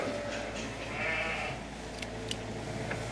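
Newborn lambs bleat faintly in a lambing shed, giving a few thin, wavering cries over a low hum of background noise.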